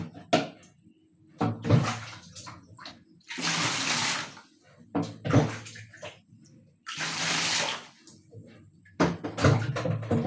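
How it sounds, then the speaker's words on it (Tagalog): Tap water running for a cat comes in two loud gushing bursts, each lasting a couple of seconds, with clatter and quieter handling sounds between them. "Ano ako ibutang kaning tubig ni Rosel"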